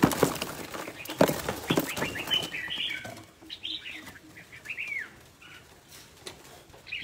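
Birds flutter and flap their wings in loud bursts at first, then chirp and tweet in short rising calls, fairly close, with coos among them and no talking.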